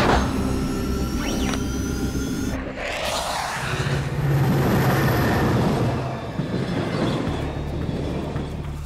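Loud, continuous rumble and metallic screech of a train moving along rails, close and steady, with a sliding squeal near the start.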